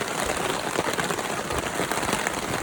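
Heavy rain pours steadily at a campsite during a bike camping trip, a dense, continuous hiss of drops drumming on surfaces, loud and close with no pauses.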